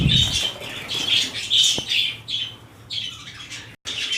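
Caged birds at a busy bird market squawk and chirp repeatedly in loud, overlapping bursts, with brief fluttering and a constant chattering backdrop.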